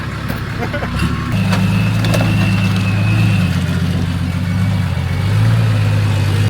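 A TD42 turbo-built 4x4 labours up a steep hill wall, its engine note holding a loud, steady mid-range growl that shifts pitch in stages as it climbs, with a brief clunk near the start.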